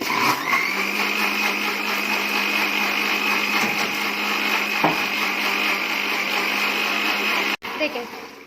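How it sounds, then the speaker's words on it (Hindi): An electric blender whirs steadily and loudly for about eight seconds, blending fresh lemon juice with black salt and sugar into a drink, then cuts off abruptly near the end. "अब ब्लेंड कर लेते हैं।"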